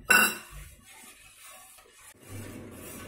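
A spoon stirs grated coconut and tender coconut flesh in a bowl while making a Navaratri prasad. One sharp clink opens the stretch, followed by soft, close scraping and mixing.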